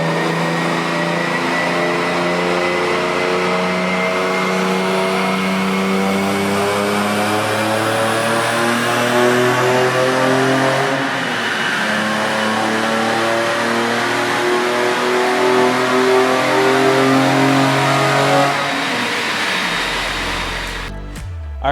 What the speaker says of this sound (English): we need to get the E46 M3 in stock form on the dyno